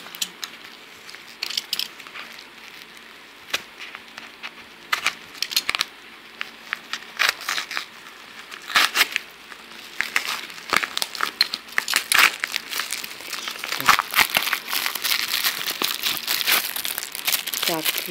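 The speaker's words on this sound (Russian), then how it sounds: "Так, второй пакетик открываем." Crinkly plastic rustling and tearing in irregular bursts, growing busier toward the end as a small plastic parcel bag is pulled open up close, with quiet talk at times.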